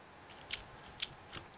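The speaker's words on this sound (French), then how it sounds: "C'est le bruit de ma tête contre mon clavier" Three short, sharp taps of a head hitting a computer keyboard, spaced roughly half a second apart, light and close, against a quiet background.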